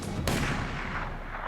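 A single loud gunshot is fired at a man beside a snowmobile: a sharp crack lands about a quarter second in, then rumbles and echoes across open terrain for the rest of the clip. No voices are present.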